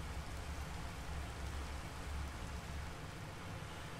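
Steady rain falls in a modded Minecraft-style game overworld, a faint, even hiss of droplets with a low rumbling wash, continuous and unchanging with no voices.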